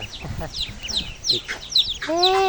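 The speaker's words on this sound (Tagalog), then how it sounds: "Ito mascovy duck" Muscovy ducks giving short, breathy calls from close by, mixed with chirps from other poultry and a brief louder harmonic squawk near the end.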